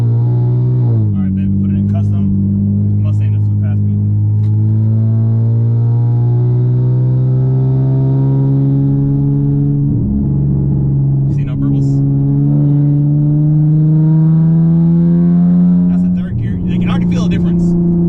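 Tuned V6 Dodge Charger engine accelerating in long, steadily rising pulls, a loud close drone that climbs in pitch, dips briefly at a shift around ten seconds, then climbs again, with occasional faint clicks over it.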